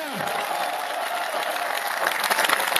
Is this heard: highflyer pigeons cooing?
no